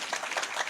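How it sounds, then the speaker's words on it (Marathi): Brief clapping from an audience at a Marathi kirtan performance, honoring the singers and musicians, heard as a soft, steady patter of many hands over less than a second. "सर्वची सर्व गाणारासाठी आणि वाजवण्यासाठी एकदा प्रेमाने टाळ्या वाजवा"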